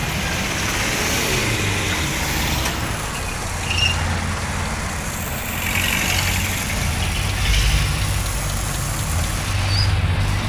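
A vehicle engine idles steadily nearby, a continuous low rumble with faint mechanical clatter and no talking.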